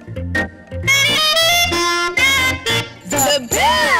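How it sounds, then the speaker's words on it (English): A saxophone plays a lively run of separate notes of changing pitch, close and bright, with short gaps between phrases in a cheerful musical number. "There's always the saxophone."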